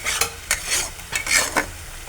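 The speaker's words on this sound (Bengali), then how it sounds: "সবগুলোকে ভালো করে মিক্স করে নেব।" Spices with salt, turmeric and chilli powder stirred in a hot pan for matar paneer, giving a soft steady sizzle broken by several brisk scrapes of a spoon against the pan.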